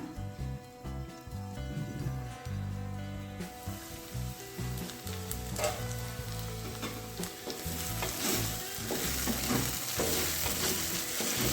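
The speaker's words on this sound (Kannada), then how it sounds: "ಬೆಂಡೆಕಾಯಿ ಚೆನ್ನಾಗಿ ಫ್ರೈ ಆಗಿದೆ" Okra (ladies finger) stir-frying in a pan for a simple palya, a loud continuous sizzle that swells and crackles as it is stirred, with background music playing underneath.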